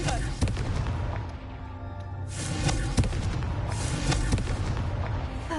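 Booming fiery blasts from a Confringo spell in Hogwarts Legacy, with a few sharp explosive hits and rushing whooshes over a rumbling game soundscape.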